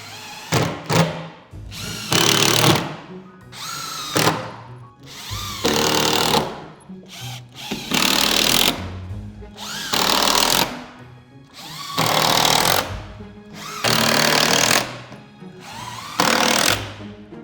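A power drill drives screws into a window's nailing flange in about eight evenly spaced bursts, each whirring up loudly and stopping, with short pauses between, close by and alone.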